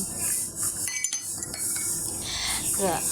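A spoon stirs sugar into a cup of plain black tea, making light clinks against the cup over a steady background hiss, with a faint voice at the end.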